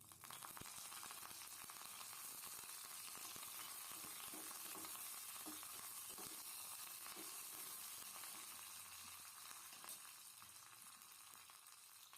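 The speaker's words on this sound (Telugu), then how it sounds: "ఇప్పుడు దీనికి తాలింపు వేయాలి" Hot oil sizzles and crackles steadily as spices are tempered for a potato and gram flour curry, a bright continuous fizz with scattered pops, heard close and quiet with no talking.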